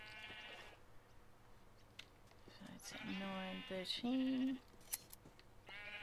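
Sheep in a video game bleat several times, some calls short and others drawn out, mixed with light clicks while someone talks over them.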